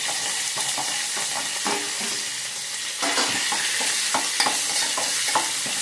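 Potatoes are stirred and fried in a pan for sabudana khichdi, with a steady close sizzle under repeated rhythmic scrapes of a spoon against the pan.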